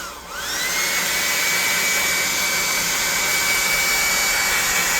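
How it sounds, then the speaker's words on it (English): A blow dryer runs steadily at close range, drying paint on tabletop game bases made from compact discs, with a loud, constant whooshing hum and a whine that ramps up right at the start. "as we come around with the blow dryer, that shine's going to go away as the paint dries."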